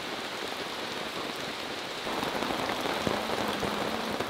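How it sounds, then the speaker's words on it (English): Steady rain falling on the jungle around a campsite in Sumatra, Indonesia, a dense continuous hiss with patters of drops that grows slightly heavier halfway through, close and with no voices. "Whilst it rains out there in the jungle"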